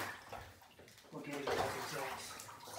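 Water splashes and runs in a bath for a six-week-old AussieDoodle puppy, a soft close sloshing under a person talking gently.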